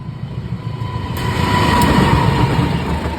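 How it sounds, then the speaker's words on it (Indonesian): A train passes nearby with a loud, steady rumble of wheels on rails that swells slightly as it goes by, with a faint high tone running through it. "Ada kereta api."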